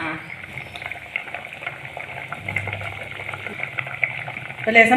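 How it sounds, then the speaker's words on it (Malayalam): A pot of dried prawn and mango curry bubbling at a boil, soft uneven blips and gurgles close by at moderate volume, with a voice murmuring briefly. "നന്നായിട്ട് തിളച്ച് വന്നിട്ടുണ്ട്"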